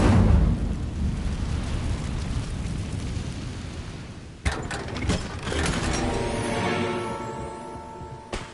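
An Incendio fire spell is cast in Hogwarts Legacy: a low rumbling whoosh gives way to a sharp burst, followed by crackling, ringing magical sound effects that fade out.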